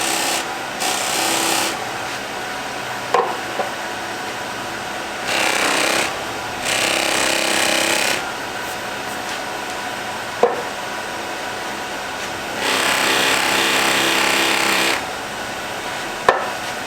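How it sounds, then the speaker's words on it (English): Buffing wheels on a pen lathe are loaded with compound in several rasping bursts of a few seconds each, separated by the quieter hum of the spinning lathe, with occasional sharp clicks. "I'm going to get to the buffing wheels here. So I'm just going to load these up real quick"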